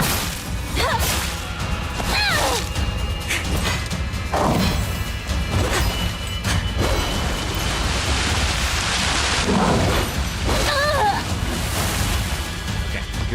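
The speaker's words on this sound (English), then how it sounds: "Now it's raining." Heavy, steady downpour in the horror video game Silent Hill f fills the scene, broken by loud crashes, sharp whooshes and warbling cries layered over the constant hiss of rain.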